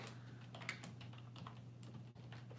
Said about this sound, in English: I'll type it with my regular name.